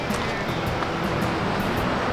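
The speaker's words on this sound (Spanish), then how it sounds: "escucho cada vez más el sonido del agua" Loud, steady rushing water roars continuously with a broad, hissing wash from the nearby 85-metre Corbata Blanca waterfall on Argentina's Ruta 40.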